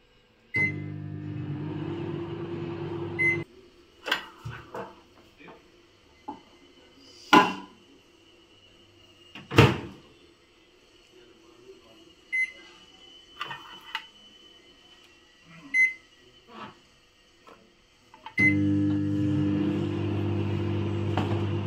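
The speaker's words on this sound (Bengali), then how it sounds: "তো এবার চলো এগুলোকে মাইক্রোওয়েভ করা যাক।" A microwave oven baking fruit cupcakes hums steadily, falls quiet except for scattered clicks and taps for about fifteen seconds, then the steady hum starts up again, close by with no voices.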